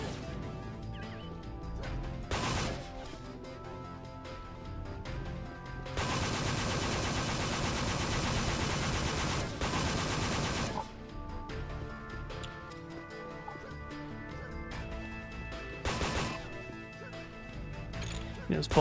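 Gunfire and bullet impacts from the shooter Unreal Gold, running in loud, dense bursts mixed with game music and effects, with a voice talking over parts of it.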